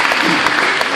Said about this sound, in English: And let's get a round of applause for that.